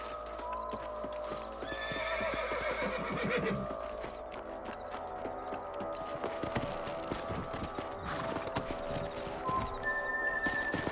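Rhythmic clip-clop of horse hooves in the video game Red Dead Redemption goes on throughout, with a horse whinnying partway through, busy and close.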